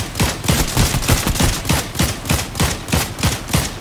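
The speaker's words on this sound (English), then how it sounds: "they're shooting right outside this window" Rapid automatic gunfire just outside a window in Fortnite, a loud, close, evenly spaced string of shots with no talking.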